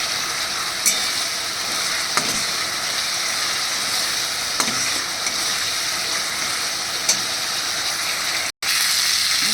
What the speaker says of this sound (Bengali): এবার আমি এর মধ্যে দিয়ে দেবো আলু আর কচু ভেজে যে তুলে রেখেছি